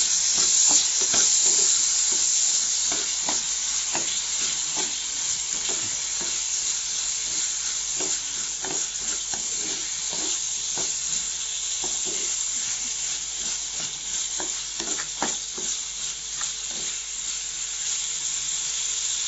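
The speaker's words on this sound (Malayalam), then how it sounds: "ഈ ബീഫ് നന്നായി ഇളക്കി കൊടുക്കാം." Beef with crushed ginger and garlic fries in a pan, giving a continuous steady sizzle broken by repeated scraping, clattering stirs of a spoon throughout.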